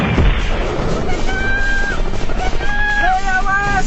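Animated war cartoon battle set during a Dutch army advance from Magelang against TNI troops, with tanks; dense, continuous loud gunfire and explosions throughout, layered with whistling tones and shouted voices.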